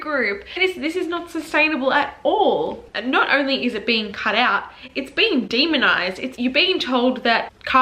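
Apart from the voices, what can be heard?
No everyday noises stand out.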